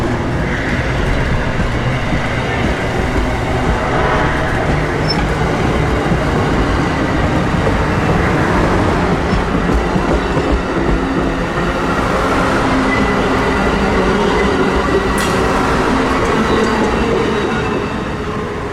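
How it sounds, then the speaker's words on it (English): An Amtrak Silver Meteor passenger train rumbles loudly and continuously on the Florida A Line, with rolling wheel noise and faint squeals throughout and no voices. "3 more minutes and everyone's aboard, and the Silver Meteor is ready to go north."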